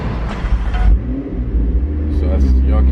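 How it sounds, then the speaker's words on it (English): A McLaren supercar's engine fires up nearby, a loud rumbling surge that settles into a steady, throaty idle running to the end. "So I'm gonna start the car so you guys can see."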